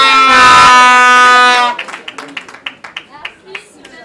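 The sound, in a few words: applause at a civil wedding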